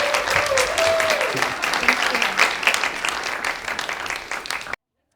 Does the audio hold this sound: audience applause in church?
yes